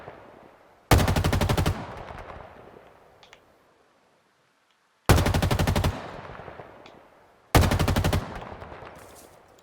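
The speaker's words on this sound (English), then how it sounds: "Only the battle rifle has sound," The battle rifle in the video game Halo Infinite fires three short, loud bursts of rapid automatic shots, each followed by a fading echo, with quiet gaps in between.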